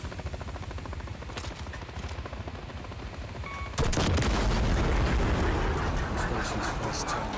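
Gunfire and a large blast in Call of Duty: Modern Warfare III, with rapid rhythmic shooting that gives way to a sudden heavy explosion and a booming, rumbling aftermath mixed with further shots and battlefield noise.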